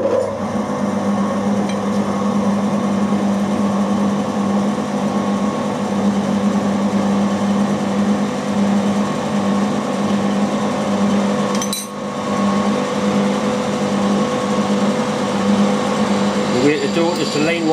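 An AM16 mini mill drills through metal with a loud, steady motor whine and grinding hum that runs nearly unbroken throughout and dips briefly partway through.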